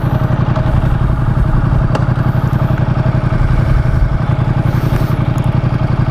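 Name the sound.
Ducati X Diavel motorcycle engine starting and running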